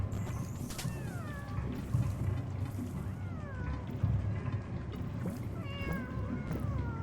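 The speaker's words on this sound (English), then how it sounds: "I hear other cats in the distance." Several cats meow in the distance within the Animal Well video game, repeated mewing calls rising and falling over a low steady ambient hum, with no talking.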